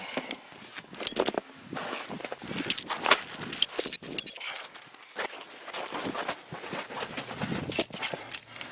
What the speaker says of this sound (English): this chain here way up on the tire like that, and then this one, be over into the rim.